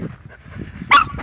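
A dog on a leash gives a single short, sharp bark close by, preceded by soft snuffling and faint whimpery sounds.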